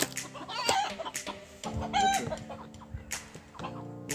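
A rooster and hens, show poultry from the Mortain Bocage exhibition, cluck and call close by in bursts, with a few short crowing-like notes over barn background noise.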